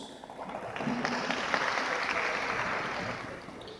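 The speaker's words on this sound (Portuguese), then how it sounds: "que recebe o carinho e os aplausos de todos" Audience at a congress on event safety breaks into applause for the panel speakers, a steady wash of clapping swelling and holding at moderate level before easing slightly.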